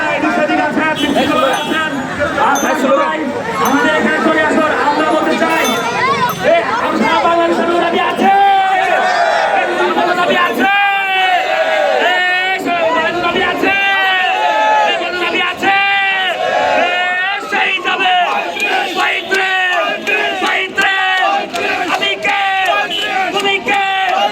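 A large protest crowd demanding a higher age limit for government job entry chants slogans loudly and rhythmically in unison, with call-and-response bursts of voices filling the whole stretch.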